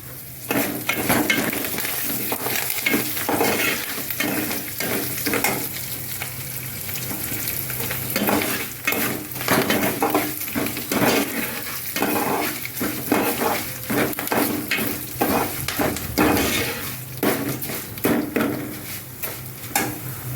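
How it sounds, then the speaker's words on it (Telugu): Curry leaves hit a hot pan already crackling with cumin seeds, giving a loud, close, continuous sizzle and spatter with bursts of popping, plus occasional spoon scrapes and clinks against the pan. "ఇదిగోండి కరివేపాకు కూడా వేస్తున్నాను"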